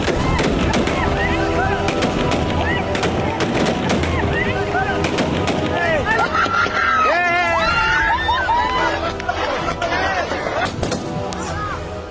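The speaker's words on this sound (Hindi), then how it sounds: "ताबड़तोड़ गोलीबारी, भीषण अफरा तफरी" Rapid bursts of gunfire crack repeatedly at Kabul airport amid a chaotic crowd, sharp shots rattling over a dense hubbub of shouting and screaming voices.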